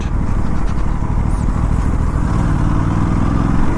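A KTM RC 457 motorcycle's engine, not high-compression, runs loud and steady, a rumbling, even drone with wind noise throughout.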